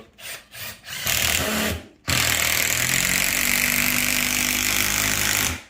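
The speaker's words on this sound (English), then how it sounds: "I'm just toe nailing or toe screwing the LVL to the bottom cord of the rafters to make sure there's no shifting." A power drill toe-screwing an LVL beam into the bottom chords of roof rafters during a home remodel, with a few short bursts, a brief pause, then a long steady whine close by.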